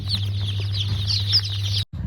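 Local chickens on a small poultry farm in Assam, with steady clucking and chirping, and a low droning hum continuing beneath the birds before a brief drop near the end.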